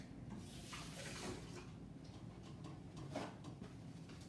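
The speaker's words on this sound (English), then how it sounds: "wash my hands" Tap water runs steadily at a kitchen sink as hands are washed while cooking soup, a continuous close splashing hiss with slight surges and no talking.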